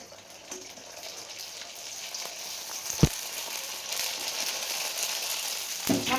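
Fuchka puris frying in hot oil, a steady soft sizzle and bubbling close by with a couple of sharp spatter pops, no voices.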